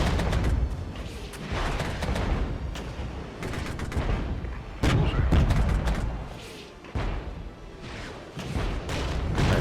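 Mortar rounds pound defensive positions in the video game Regiments, heavy booms and thuds landing in repeated bursts over a rumbling battlefield bed, loud and close.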